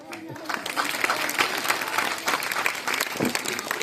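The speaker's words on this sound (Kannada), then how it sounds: "ಬಾರಿಸುತ್ತಿದ್ರೆ ಜೋರಾಗೆ ಬಾರಿಸ್ಬೇಕು ಚಪ್ಪಾಳೆ." Loud, steady applause from a large audience at a devotional gathering honouring a revered swamiji, sustained clapping filling the space from start to finish without pause.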